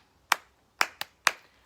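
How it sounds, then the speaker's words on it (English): Four sharp hand claps in an uneven rhythm pattern, close and crisp, with a clapping game for children in a classroom; no talking. "I would clap a pattern like"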